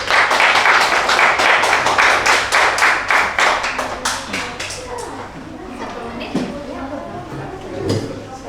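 A small audience at a school poetry reading competition for a national holiday event claps in a brisk, loud burst of hand claps that fades out after a few seconds, then a voice begins talking over a light, scattered tail of claps.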